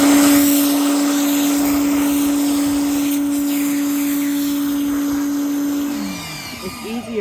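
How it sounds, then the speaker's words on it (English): A pressure washer runs with a loud, steady motor drone and hiss close by, holding even for several seconds before the pitch drops and it winds down near the end. "It's good to have good pressure on your pressure washer when you turn it on."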